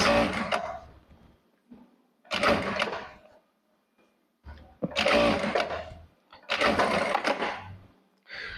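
A Jack A4 industrial sewing machine runs fast in bursts, each a rapid whirring stitch lasting about a second or two, separated by short pauses, close and loud.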